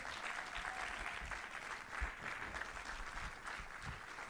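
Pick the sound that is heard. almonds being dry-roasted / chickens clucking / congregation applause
congregation applause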